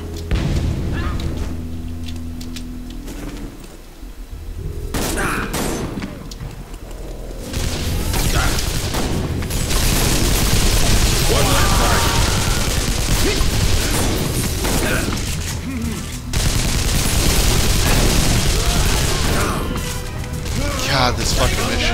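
Grenade blasts and gunfire in the video game Global Ops Commando Libya: heavy booms and crashing bursts come in waves among rattling mechanical noise, with a player talking over much of it.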